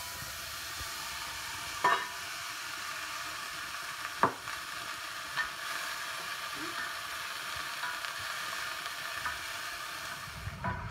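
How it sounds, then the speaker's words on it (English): Leeks sizzle steadily in melted butter in a pan, a fairly quiet continuous hiss broken by a few distinct spoon clinks and scrapes as they are stirred. "we're going to add our leeks and we're going to stir it"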